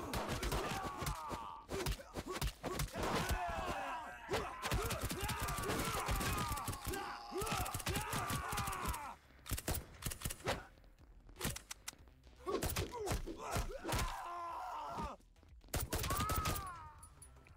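Gunfire in the brawler video game Midnight Fight Express crackles in dense repeated bursts, with thuds and grunts between volleys and brief quieter gaps; a voice talks over part of it.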